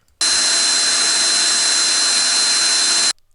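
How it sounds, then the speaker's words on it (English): A power drill with a 1/2 inch titanium bit bores a hole in a camper van, a loud steady whine starting abruptly and stopping after about three seconds. "I'm just going to drill the hole with a 1/2 inch titanium bit."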